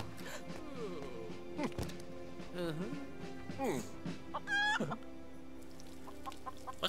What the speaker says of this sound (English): What's with the chicken?